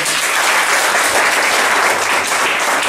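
A church congregation breaks into steady, dense applause, many hands clapping together at an even loudness throughout, with some faint voices mixed in under the clapping.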